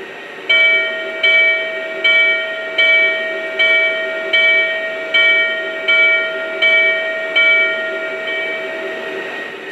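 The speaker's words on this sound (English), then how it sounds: "And here's the bell." A Lionel Brass Hybrid N&W K2 model locomotive's bell sound effect rings at a steady, even rhythm, about ten clear strikes over a continuous mechanical hum, close and fairly loud.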